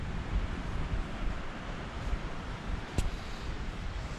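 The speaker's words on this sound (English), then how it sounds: "So we're in for a windy day." Strong wind roars steadily outdoors with whitecapped water nearby, a broad continuous rushing that buffets the microphone, with one brief sharp click partway through.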